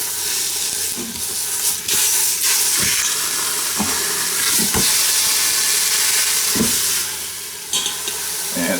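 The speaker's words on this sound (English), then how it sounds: "I sear the entire outside of the pork roast" A pork roast sears in an Instant Pot used as a frying pan, giving a loud, steady sizzle and hiss with occasional sharp thumps and scrapes as the meat is moved, close up and without talk.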